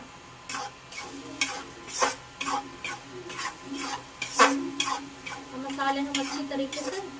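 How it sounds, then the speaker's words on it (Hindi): Spiced masala for stuffed bitter gourd (bharwa karela) fries in a pan and is stirred steadily. The spatula scrapes the pan in quick, rhythmic strokes over a soft, low sizzle, fairly quiet and without speech. "मसाले हम अच्छी तरीके से भून के तैयार करेंगे।"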